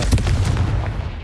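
A Confringo blasting spell explodes in Hogwarts Legacy, a single loud, close boom with a heavy low rumble and crackling burst that fades over about a second.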